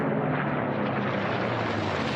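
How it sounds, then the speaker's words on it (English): Unlimited-class racing airplanes, including a King Cobra, roar past during an air race heat, a dense, loud and continuous engine and propeller noise with no break and no voices. "the last two place airplanes will be the King Cobra and Ken Gottschalk"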